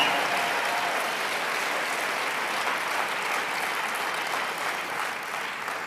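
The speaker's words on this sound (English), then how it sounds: "Let's give all the presenters a tremendous round of applause" An audience gives the presenters a sustained round of applause, thick and steady clapping from a large crowd that carries on unbroken for several seconds.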